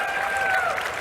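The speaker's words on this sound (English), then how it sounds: "whichever one gets the most applause right here, right now, is going to become Trevor's actual name" Convention crowd at GuardianCon 2019 applauding and cheering in a brief burst, loud and dense, with a tonal whistle or voice rising through the noise.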